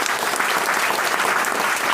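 Audience applause at a talk on food supplements, a dense, even roar of many hands clapping, loud and sustained throughout with no voices over it.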